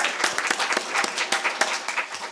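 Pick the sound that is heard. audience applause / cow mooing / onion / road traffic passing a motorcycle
audience applause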